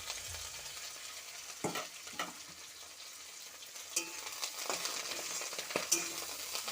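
Taro leaves with green chilli fry in a pan, a soft continuous sizzle broken by scattered scraping and clinking of a spatula or utensil against the pan.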